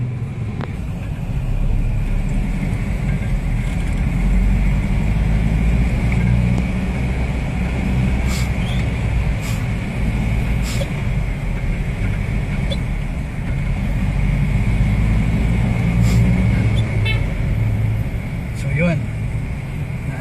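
Steady road traffic in the Philippines rumbles continuously close by, with engine drone and passing vehicles, while people talk throughout over the noise.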